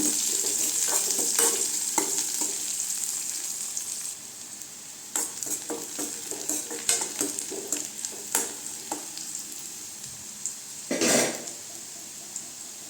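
Onions sautéing in a pan for radish-greens poriyal, a close crackling sizzle with scattered clinks and scrapes of a ladle stirring, fading quieter for a moment before the stirring picks up again.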